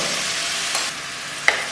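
Garlic fries in oil in a kadai with a steady, close hiss, broken by two quick scrapes of a spoon being stirred through the pan.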